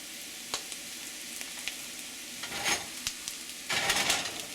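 Corn sizzles in butter in a hot pan, a steady crackling fry with bursts of louder spitting and stirring as the kernels are moved around.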